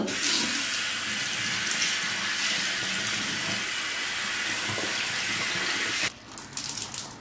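Cold water gushes steadily from a tap into a sink for several seconds, then cuts off abruptly, leaving faint handling sounds.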